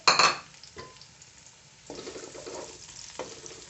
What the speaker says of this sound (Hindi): कढ़ाई में मैंने 3 टेबलस्पून ऑयल लिया है और अब मैं इसमें प्याज ऐड करूँगी